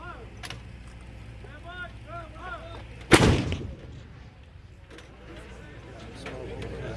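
An M777 howitzer fires once during live-fire artillery training, a sudden heavy boom with a rolling tail, while people talk in the background before and after the shot.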